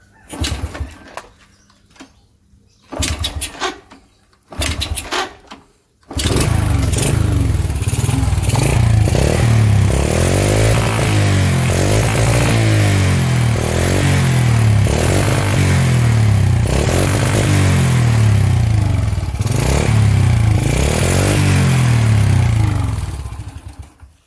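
A smoking motorcycle with white exhaust smoke is started after a few brief bursts of cranking, then settles into a loud, steady, throbbing run that continues for about eighteen seconds, close by with no talk.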